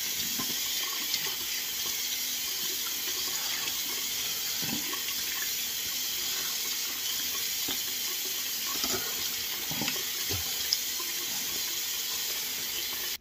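Steady running hot tap water splashing into a sink during face rinsing, a continuous hiss with occasional louder splashes and clinks, close by and without talking.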